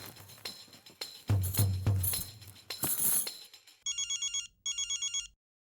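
A telephone rings on an outgoing call in a Hindi TV sitcom home scene: two evenly pulsed bursts of electronic ringback tone, clear and fairly close, following a few seconds of clattering background noise.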